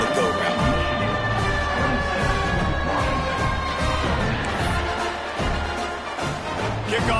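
A stadium crowd at a football game roars and cheers in a dense, loud, sustained wash of many voices with no clear single speaker.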